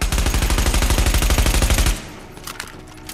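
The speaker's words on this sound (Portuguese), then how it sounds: "Vamos testar a próxima arma. Vector." A rapid burst of Vector submachine gun fire in the video game The Division rattles for about two seconds, loud and close, followed by a few faint clinks and echoes.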